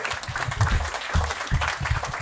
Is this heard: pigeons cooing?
no